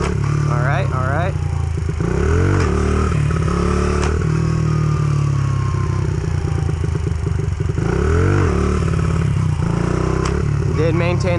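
A motorcycle engine is held at a steady throttle during stunt practice, a loud, close, continuous drone under heavy wind buffeting, with brief rises and dips in pitch as the rider adjusts.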